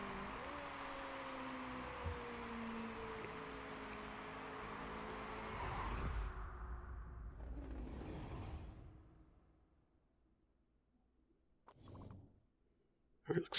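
A race car in Motorsport Manager holds a steady engine drone at constant pitch, then swells and whooshes past before fading to near silence. A brief bursty noise comes late.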